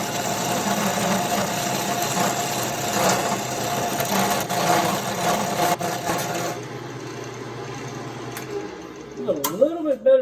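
A wood lathe whirs steadily as a small bow gouge works a log into a wand shape, with a continuous vibrating mechanical drone that drops off after a few seconds, followed by brief scraping and clatter.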